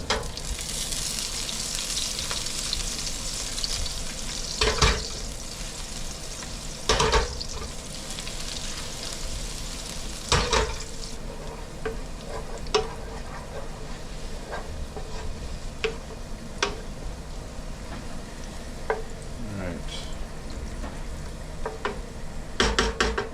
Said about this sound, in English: And we're going to get that sauteing. Nice and fragrant.